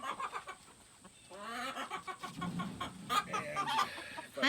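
Two dozen hens in an insulated chicken coop cluck and murmur on a cold morning, a steady close chorus of short rising calls with no talk.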